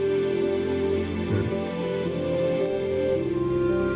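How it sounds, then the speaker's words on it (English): Steady rain falling in a damp mire from the video game Sakura Fantasy, a continuous dense hiss that runs unbroken and fairly loud throughout. "We were barely able to get a fire started due to the rain and how damp the mires naturally are."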